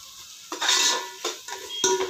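A metal spoon scrapes and clinks against a pot while chicken tahari mixture is stirred, several short rasping strokes in quick succession, close and fairly quiet.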